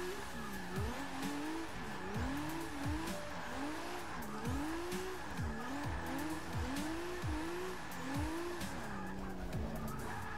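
A Toyota Supra in Forza 6 spins out, its tires squealing in a rapid series of repeated rising and falling screeches over a roaring engine, loud and close throughout.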